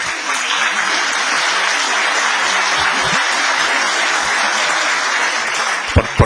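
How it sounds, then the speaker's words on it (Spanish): A seminar audience gives a loud, steady round of applause, many hands clapping in a thick continuous wash that ends with a couple of sharp knocks. "Por fin saqué un aplauso"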